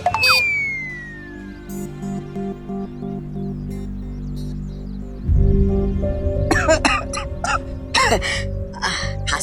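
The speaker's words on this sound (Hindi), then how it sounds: "खांसी हो रही है" Coughing from a character in a Hindi children's fantasy TV episode: a cluster of sharp, close coughs in the last few seconds, over loud background music and sound effects.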